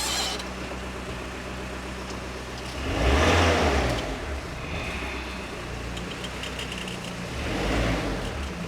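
Agribuggy engine running steadily as it drives out into a field, a mid-pitched motor hum with two swells of louder revving, fairly close.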